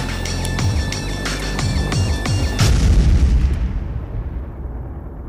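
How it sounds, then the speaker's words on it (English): A road-clearing blast for a landslide on the Khardung La mountain road in India rolls out as a booming, rumbling roar that swells, then fades slowly into distant rumble. "they've been blowing and blasting along here"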